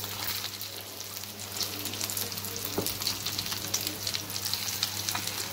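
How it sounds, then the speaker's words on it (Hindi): Naan tikki patties fry in a pan with a steady hissing sizzle that sounds close and lasts the whole time. The frying is heard alone, with no talking, and has a faint crackle running through it. "इसी तरह हम टिक्कियाँ डालते जाएंगे।"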